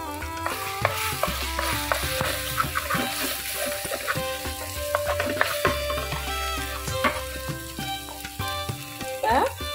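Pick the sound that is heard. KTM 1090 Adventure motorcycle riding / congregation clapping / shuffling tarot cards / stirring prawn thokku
stirring prawn thokku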